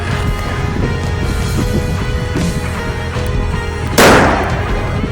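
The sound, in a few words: viper firecracker exploding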